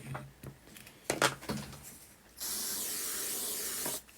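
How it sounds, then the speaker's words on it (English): Activator spray hisses from a can in one steady burst of about a second and a half, coating the inside of a glued part, after a few light knocks and handling sounds. "I'm just going to coat the inside of there with activator spray"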